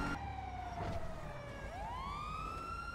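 A police car siren wails steadily in a GTA roleplay game, sweeping down then rising again during a traffic pullover, loud and continuous over a low engine rumble.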